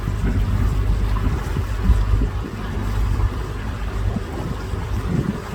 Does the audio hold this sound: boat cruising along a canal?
yes